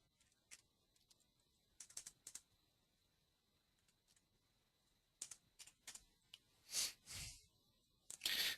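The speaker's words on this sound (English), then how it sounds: "we'll find Shottle by typing in his NAB code" Scattered keystrokes on a computer keyboard while entering a code into Red Book Plus/MultiMate breeding software, sparse clicks with long pauses and a louder burst of key presses near the end, close and quiet.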